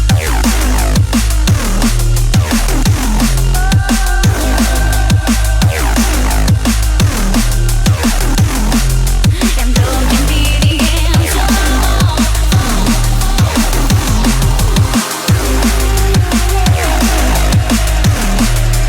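Drum and bass track with an acid-style synth bass, made to recreate the bass from another track, playing in a full, loud mix with driving drums and resonant squelchy lines throughout.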